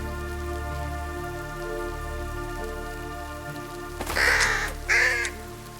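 Two loud crow caws from a crow in the Mystery Detective video game on a farm, sounding near the end over a steady ambient game background with soft rain-like texture.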